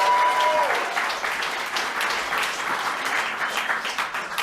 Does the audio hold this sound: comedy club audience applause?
yes